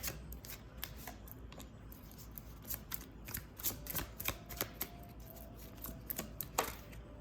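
Tarot cards shuffled and drawn by hand, giving a quiet, close run of crisp card riffles, flicks and slaps in irregular bursts, with no speech.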